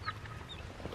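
Young chickens, about three-quarters feathered out, clucking and peeping in a short close burst of soft chirpy calls.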